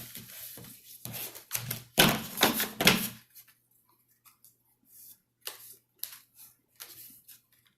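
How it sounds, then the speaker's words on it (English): Cards are shuffled in quick riffling bursts, followed by softer scattered taps and flicks as they are handled, close up. "just give me a minute to shuffle them up"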